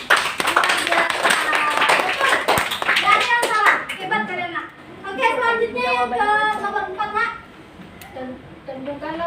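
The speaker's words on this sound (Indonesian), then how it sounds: "Tepuk tangannya." Children clap together in a classroom, a brief burst of dense, uneven hand claps near the start before it fades into children's voices and a teacher's chatter for the rest of the clip.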